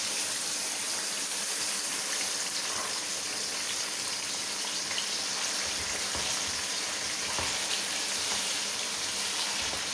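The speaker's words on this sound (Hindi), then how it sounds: "चिकन को पहले फ्राई करते हैं" A whole kilo of chicken shallow-frying in hot oil in a karahi gives a steady, loud, dense hiss like rushing water, unbroken throughout with no voices.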